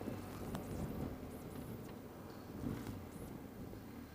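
A steady, low, rumbling roar of breezy wind buffets the microphone while a BMW R1250GS motorcycle is ridden on a sunny day, continuous and even throughout with no talking.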